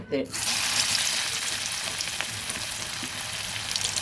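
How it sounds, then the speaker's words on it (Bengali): Banana flower fritters frying in hot oil, a loud, continuous, close sizzle and crackle that starts abruptly and holds steady throughout. "এখন এক এক করে বড়াগুলো তেলে দিয়ে দিয়েছি তেলও গরম হয়ে গেছে"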